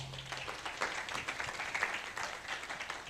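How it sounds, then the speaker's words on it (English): Moderate audience clapping rolls on for a panelist at a literature panel discussion, an even patter of many hands at middle distance, with a faint low hum underneath at the start. "A round of applause for Gadu"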